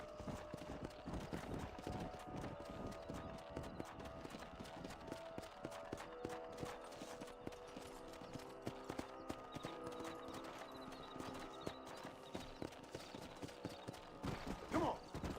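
Horse hooves clip-clop in the Red Dead Redemption video game, a rapid rhythmic trot over a busy background with a faint bit of activity near the end.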